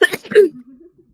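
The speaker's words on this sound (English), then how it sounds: "Bless Whoever just sneezed." A single sneeze bursts out at close range, a sharp broadband explosive burst lasting about half a second before trailing off into a brief low hum and quiet.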